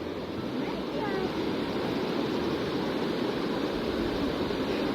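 A river to be crossed near Ananuri, its water rushing in a continuous broad roar, close and steady, with no clear voices over it.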